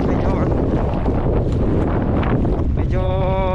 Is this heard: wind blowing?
yes